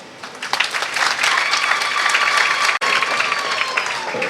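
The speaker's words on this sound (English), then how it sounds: "Another round of applause for His Excellency the President" An audience claps steadily for a country's president after his speech, a dense, loud wash of applause lasting about four seconds with one brief dropout midway.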